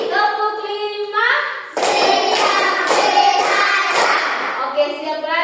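A short burst of rhythmic group clapping from a class of students, a handful of sharp claps in sequence, framed by a teacher talking before and after.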